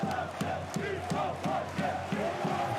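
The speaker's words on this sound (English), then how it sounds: "look at this home crowd here tonight. Incredible atmosphere." Home crowd at a FIBA basketball semi-final between Bilbao Basket and JDA Bourgogne Dijon, a dense roaring crowd with rhythmic chanting pulses, loud and sustained throughout.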